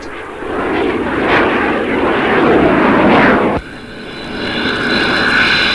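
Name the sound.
aircraft flying at 1963 air show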